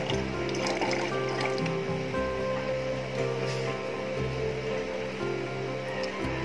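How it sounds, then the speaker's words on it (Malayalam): Vinegar poured gradually into hot milk for homemade mozzarella, a soft continuous liquid trickle and splash, close and steady, with faint background noise. "ഇനി അതിലോട്ട് നമുക്ക് വിനീഗർ കുറേശ്ശെ കുറേശ്ശെ ഇട്ട് ഒഴിക്കാം"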